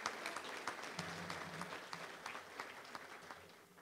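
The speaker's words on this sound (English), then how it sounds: "Let's give them a round of applause, please, for all of our great sponsors" A luncheon crowd at a touchdown club gathering claps for the event's sponsors, quiet scattered applause with distinct individual claps and a faint low hum beneath.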